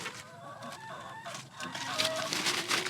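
Chickens cluck and call steadily in a crowded coop of about 360 laying hens on a small farm. A dense chorus of overlapping fowl voices fills the space at close to moderate range.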